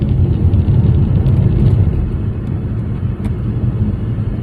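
A car driving along, with a steady, loud low engine and road rumble that fills the whole stretch without a break.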